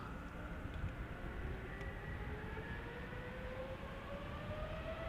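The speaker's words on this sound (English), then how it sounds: "Delta Airlines Flight 57 to Salt Lake City is now first taking off, A330neo." A Delta Air Lines Airbus A330neo takes off at Amsterdam Schiphol, its engines making a steady, loud roar with a rising whine that carries throughout, with no voices.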